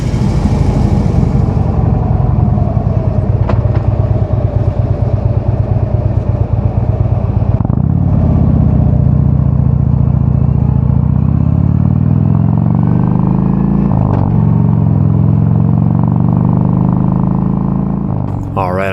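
A motorcycle rides through the town streets of Baldwin Park with a loud, steady engine drone and wind rumble close by, shifting pitch a few times as it changes speed, while a rider talks over it.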